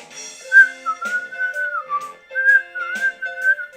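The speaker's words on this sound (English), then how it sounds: "We're almost to the part of where I start to whistle." A person whistles a show's theme tune, a clear melodic line of sustained and gliding notes with short breaks, close and fairly loud, with faint music underneath.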